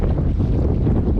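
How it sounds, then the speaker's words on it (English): Strong wind whipping across a lake during a bass-fishing boat ride, a steady loud roar of rushing air buffeting close up, with no talking. "the wind is really whipping"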